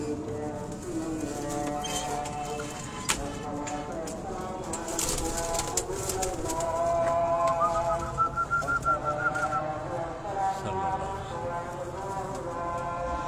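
Banded pigeons kept on a rooftop in Nawabshah, Pakistan, coo and call steadily throughout, with other bird chirps and whistles mixed in and voices talking in the background.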